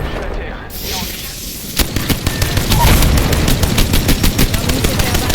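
Rapid bursts of automatic gunfire in a French-language battle royale shooter game, loud and close, repeating in a steady rattling rhythm after a brief quieter opening.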